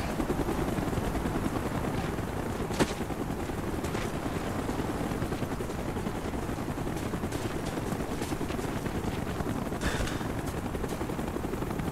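Military helicopter in Call of Duty: Black Ops, a steady close rotor roar with low thumping that fills the whole stretch, a few sharp bangs and cracks rising briefly above it.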